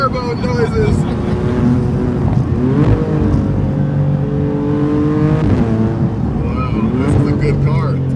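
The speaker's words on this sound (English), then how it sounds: "Turbo noises, turbo noises, turbo noises." A Maserati MC20 in sport mode rolls downhill, its turbocharged engine humming and whooshing with rising and falling tones, close and loud, while people talk inside the car.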